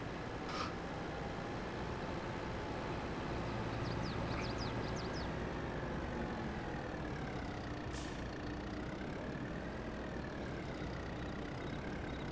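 A tractor engine in Farming Simulator runs at a steady, even drone throughout, with a faint chirp and an occasional light click over the constant low rumble.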